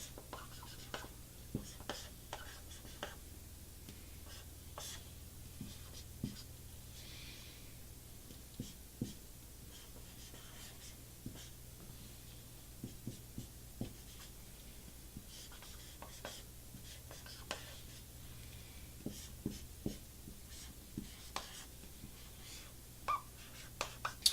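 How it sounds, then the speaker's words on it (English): A fuzz circuit diagram is drawn by hand, a pen scratching and tapping on paper in short irregular strokes, quiet and close over a faint low hum. "I'll draw a simple one here real quick"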